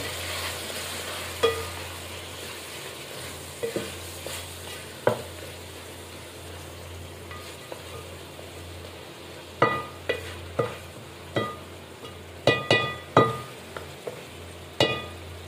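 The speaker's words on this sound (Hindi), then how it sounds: "इसके बाद हम गोश्त डालकर भूनेंगे" Mutton frying in a pan for a Kerala-style gosht, a low steady sizzle with sharp scraping and clinking strokes of a spoon stirring the meat, sparse at first and then coming in quicker bursts.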